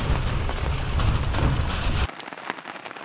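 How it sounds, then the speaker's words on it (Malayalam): Heavy monsoon rain pours steadily during a jungle safari at Mudumalai Tiger Reserve, a loud dense wash with deep rumbling low end that cuts off abruptly after two seconds to lighter, thinner rainfall patter. "മഴ ഒന്ന് ചെറുതായിട്ട് കുറഞ്ഞു, മഴ മാറിയിട്ടില്ല"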